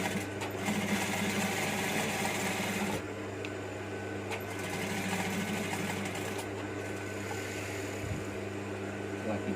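Sewing machine running steadily while stitching a wangki-style collar, a continuous close mechanical whir with a brief pause partway through.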